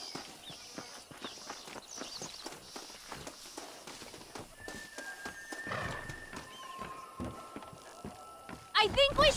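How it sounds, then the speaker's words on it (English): Horses clip-clop along pulling a stagecoach in Red Dead Redemption, steady hoofbeats with occasional neighing, while a voice talks over them and a sharper burst closes the scene. "My brother has given us his stagecoach. They are good horses."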